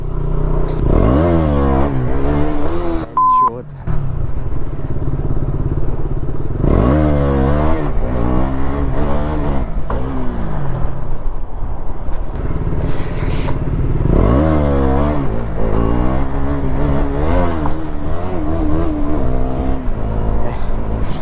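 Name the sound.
KTM Duke 200 motorcycle revving while doing a wheelie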